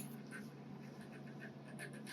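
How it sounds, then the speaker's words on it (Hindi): A failing hard disk drive hums steadily as it spins up, and its head gives faint, evenly spaced ticking clicks. "स्पिन कर लगाते ही टिक टिक टिक आवाज़ आ रही है और स्पिन डाउन हो रही है"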